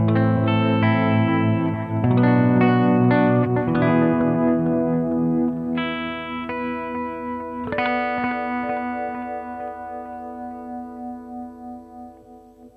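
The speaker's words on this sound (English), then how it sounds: "It just sounds like a tremoloed effect on a guitar that's slightly muffled." An electric guitar through a Beetronics tremolo effect pedal plays sustained chords and notes with a pulsing, wavering tremolo effect, slightly muffled, with no voices.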